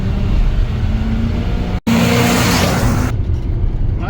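A 1991 Ford F350 4x4 brush fire truck with a 7.5-liter 460 big-block V8 and C6 automatic runs steadily and loudly up close, with a brief dropout, then a surge of acceleration and revving.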